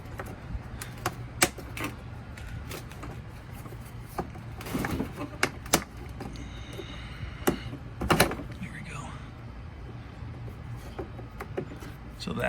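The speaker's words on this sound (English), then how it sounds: "So I just try to take these tabs off with this little pry bar." Small pry bar scraping and clicking against plastic tabs on the rear bumper of a 2009 Chevy Malibu, a run of sharp close taps, scrapes and a few louder snaps over a low steady hum, no talk.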